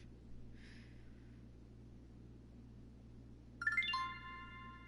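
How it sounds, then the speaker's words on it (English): A bright electronic chime from a GTA Online police call alert sounds once near the end, following a faint high blip, over a quiet steady hum with no talking. "it should make a sound that the call is active"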